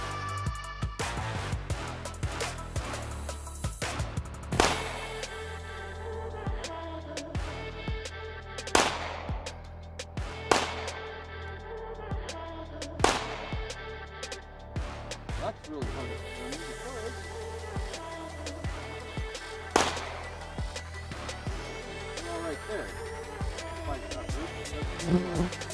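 Glock 19 pistol with a red dot sight fired at a target on a range, several sharp, well-spaced shots ringing out among quieter background noise, no talk.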